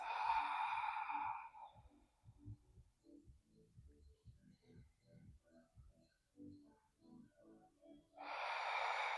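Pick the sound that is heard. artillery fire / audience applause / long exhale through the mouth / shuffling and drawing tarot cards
long exhale through the mouth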